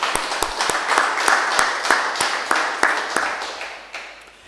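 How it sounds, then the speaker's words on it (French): Congregation at a Sunday church service clapping together, a steady patter of hand claps with sharp individual claps standing out, fairly close and fading toward the end. "Et on peut s'applaudir, c'était une belle matinée."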